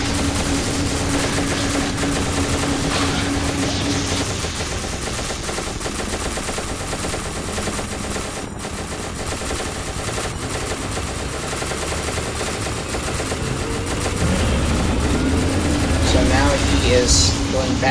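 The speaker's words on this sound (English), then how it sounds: "So that's the HID turret," An HID (high intensity discharge) turret firing in SCP Containment Breach: loud, continuous rapid fire with a droning mechanical hum underneath, running the whole stretch and swelling near the end, with a voice talking over it.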